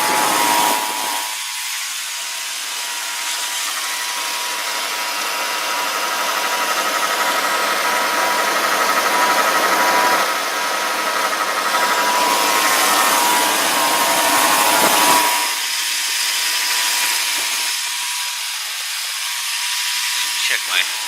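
A 2001 GMC 2500HD engine idles steadily under the open hood, carrying a faint power steering whine through a constant broadband hum, with brief speech near the start and end.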